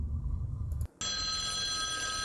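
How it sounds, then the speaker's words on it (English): An electronic telephone ring starts after a low rumbling passage and a brief drop-out, then sounds as a continuous bright trilling tone that carries on to the end. "Phone ringing now."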